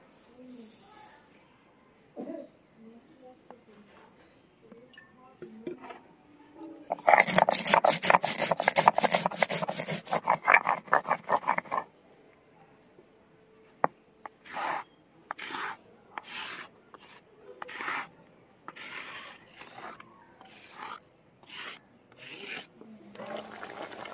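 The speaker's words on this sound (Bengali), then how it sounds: "সর্ষে আর তার সাথে কাঁচা লঙ্কা একসাথে বেটে নেব।" Mustard seeds and green chillies ground together into a paste by hand, a dense burst of rough rasping strokes followed by slower separate rubbing scrapes, close and fairly loud, with quiet voices in the gaps.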